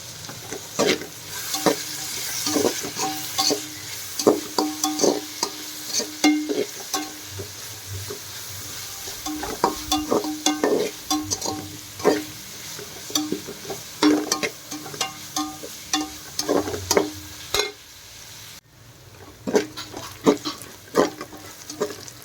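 Sliced onions for a Kavalai fish curry sautéing and stirred in a pan, with a steady low sizzle broken by repeated scraping and clinking of a spoon against the pan, close up and with no talking.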